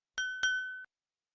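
A notification bell sound effect chimes twice in quick succession, bright glassy pings that ring briefly and fade, clean and alone.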